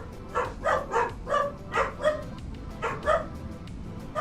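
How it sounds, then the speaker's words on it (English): Dogs in the video game Farming Simulator 25 give a run of about nine short, yappy barks in steady rhythm, moderately close, over a faint background hum. "And the doggos are really happy, can you tell?"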